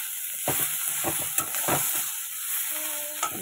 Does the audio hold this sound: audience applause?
no